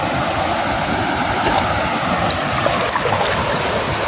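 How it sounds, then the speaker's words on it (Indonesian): River water swirls and churns in a steady, loud, continuous wash with no pauses. "Kenapa air sungai, air di dalam ini seperti menggulung?"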